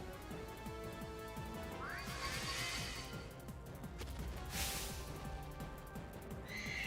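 A horse in the video game Pokemon Shield neighs twice, a rising whinny early on and another shrill cry a couple of seconds later, set against busy game sound effects and music with no talking.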